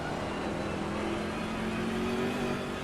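Onboard BMW race car engine at Paul Ricard in Assetto Corsa Competizione, a steady close engine drone with a slight rise in pitch, heard alone without talk.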